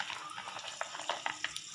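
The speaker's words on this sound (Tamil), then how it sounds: "இப்போ ஒரு பேனில் நம்ம வெங்காயம் இஞ்சி பூண்டை நல்லா ஃப்ரை பண்ணிக்கலாம்." Chopped onions, ginger and garlic frying in a pan, with soft, crackly sizzling and light stirring scrapes in quick irregular bursts, fairly faint and with no talk over it.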